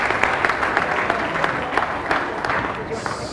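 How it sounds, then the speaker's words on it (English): Quiet applause from wedding ceremony guests, a soft, steady patter of many hands clapping at moderate distance, lasting a few seconds without talk. "You can have a quiet applause for Bear."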